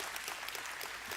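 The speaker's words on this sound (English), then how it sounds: "Do some clapping." An audience claps at the AMD Computex 2024 keynote, a continuous patter of applause in a large hall with no talking over it.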